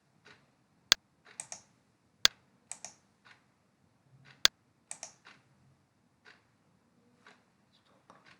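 Keys tapped on a computer keyboard as text is typed, sparse separate clicks with a few sharp louder strokes and short pauses between, close but quiet against a near-silent room.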